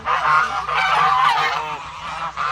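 Loud, continuous quacking and honking from ducks, several birds calling over one another without pause.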